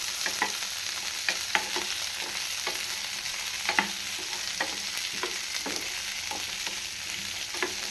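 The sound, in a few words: onions sautéing in a pan for cauliflower gravy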